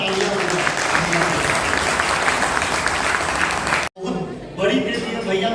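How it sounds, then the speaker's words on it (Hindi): A crowd at a free diabetic testing event in India claps loudly for about four seconds, breaks off abruptly, then picks up again more softly with voices mixed in. "एक जोरदार तालियां"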